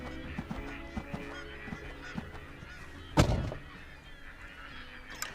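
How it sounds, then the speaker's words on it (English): Pintail and green-winged teal ducks calling on a Great Salt Lake wildlife refuge during fall migration, with scattered honks and quacks from a flock, mostly distant, and one louder close call partway through. "It's probably a combination of pintail, green-winged teal."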